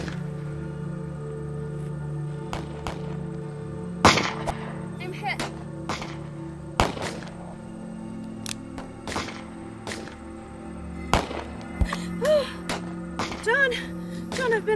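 Gunfire crackles through a tense Western film scene during a frontier uprising. Sharp shots ring out one after another at irregular intervals over a constant low background rumble.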